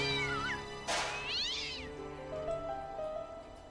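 A cat in the point-and-click game Broken Sword meows clearly and close, giving a short mew and then a longer rising and falling cry over a faint steady background hum.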